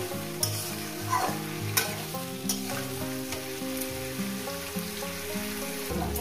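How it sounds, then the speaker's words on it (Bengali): Vegetables for a rui fish head chorchori frying in a pan, a continuous close sizzle with rhythmic stirring scrapes and tapping, under a musical background, no voices. "ভালো করে সুন্দর করে মিনিট 5 ধরে আমি এটাকে সবজিটাকে সুন্দর করে ভেজে নিব।"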